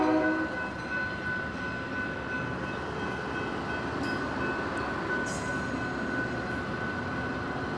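A nearly empty passenger train with its engine pushing from the back carries along with a steady, close rumble, a sustained tonal hum and brief higher squeals, and no one speaking.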